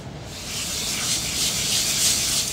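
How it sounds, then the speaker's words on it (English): A hand file dresses knife-cut notches on a handmade violin part, making a soft, steady rasping rub that swells slightly as the strokes continue, close and unaccompanied by speech. "finishing finally off again with the file"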